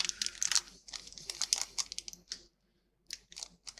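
A trading card pack wrapper is cut and torn open at close range, making quick crinkling and tearing bursts, a brief silent gap, then more crackles.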